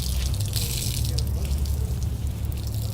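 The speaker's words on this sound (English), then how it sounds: "Now I'll take it out of the bucket and wring out as much of this dirty water as I can." Dirty water drips and trickles steadily back into a bucket as a car wash mitt is wrung out, a close, continuous wet patter with no talking.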